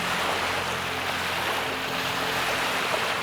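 Small waves lap and wash continuously against a boat on open water, a steady close splashing hiss with no voices.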